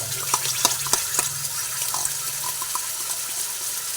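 Ginger fries in hot oil in a pan for a fish recipe, giving a steady, close sizzling hiss broken by scattered crackles and pops, with no talking.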